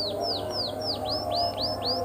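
A canary sings a fast series of repeated rising, sweeping chirps, about eight evenly spaced notes, clear and fairly close over a steady low background hum.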